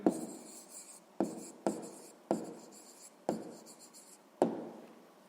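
Pen or pencil writing a math answer on paper, six distinct strokes or short scratching bursts spaced about a second apart, close and fairly quiet with no voices.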